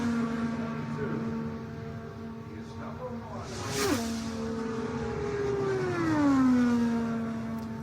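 An IndyCar leaves on a 2018 Indianapolis 500 qualifying run at the Brickyard, its engine note climbing and sweeping in pitch with a loud whooshing pass midway, under a commentator's voice.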